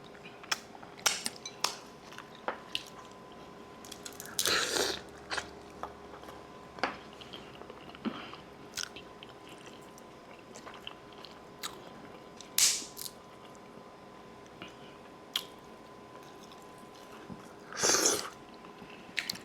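Close, wet chewing and biting on seasoned shrimp during a mukbang, with scattered clicks and ticks and a few louder bursts of crunching and smacking spread over a long stretch, no talking.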